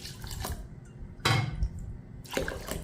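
Water pours into a bowl of soaked Mappillai Samba rice in three short splashing bursts with dripping between them, close by and fairly quiet, with no talk.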